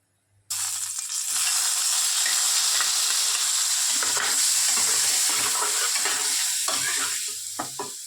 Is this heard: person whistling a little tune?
no